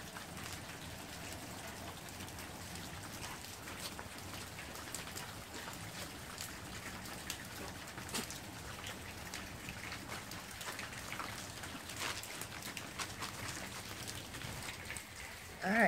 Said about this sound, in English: It's time to go out in the rain, Raymond.